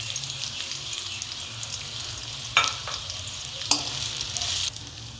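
Close stirring and scraping in a sizzling pan of sabudana khichdi with potato, soaked sabudana and peanut powder, steady frying hiss with a few sharper spoon scrapes against the pan.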